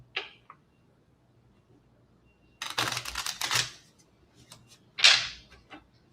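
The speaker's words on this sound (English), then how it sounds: "As I sit here and shuffle cards" Playing cards are shuffled at close range: a brief riffle, a pause, then longer crisp riffling bursts and a sharp final snap of the deck, with no talk.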